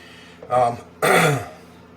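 Two short, rough throat clearings from a close voice, separated by a brief pause.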